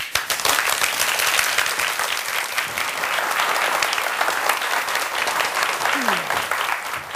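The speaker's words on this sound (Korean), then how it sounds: "여러분 큰 박수로 맞아주시기 바랍니다" Sustained, dense applause from a large audience fills the whole stretch at a steady, loud level.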